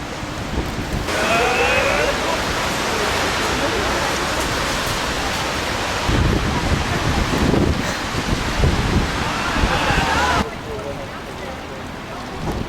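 Strong wind buffets and roars steadily outdoors in rainy weather in northern Germany, a broad rushing noise with gusty swells, with faint voices underneath.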